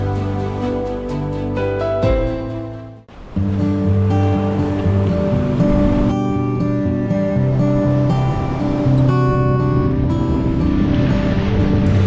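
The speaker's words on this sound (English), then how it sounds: "Imagine a place where waves crash against the rocks and the wind whispers ancient stories." Sea waves crash and surge against the rocks of Cape Limnos on the Black Sea coast near Tsarevo, a full, continuous roar of surf with wind, heard close and alone.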